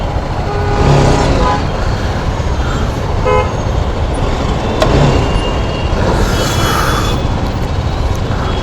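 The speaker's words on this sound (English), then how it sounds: "So you can see the amount of traffic, quite a bit of it." Heavy highway traffic near Bangalore streams past at close range, a continuous roar of cars, buses and motorbikes broken by several horn toots and honks, loud throughout with no voices.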